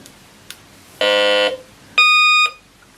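Metal detector switched on, giving two loud, steady electronic beeps of about half a second each, the second higher and thinner in tone, with a faint click before them.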